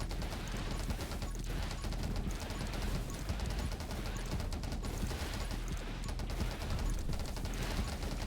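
Spark Shotgun fire in the game 20 Minutes Till Dawn, a dense, continuous barrage of overlapping shots blended with crunching impacts and game effects, steady and loud throughout with no speech.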